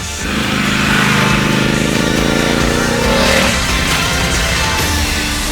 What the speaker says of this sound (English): the sweet, raspy soundtrack from these twin exhaust pipes